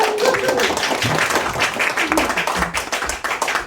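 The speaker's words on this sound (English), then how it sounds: "one more round of applause for Liz" Open-mic audience at a bookstore poetry night applauding a poet, a dense, steady burst of many hands clapping close and loud throughout, with a few voices mixed in.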